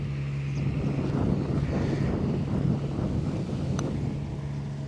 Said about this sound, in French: Vent terrible.